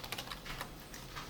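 Keys on a computer keyboard are typed while writing HTML tags, including a press of the tab key; quick, faint, evenly spaced clicks sound close by, with no speech.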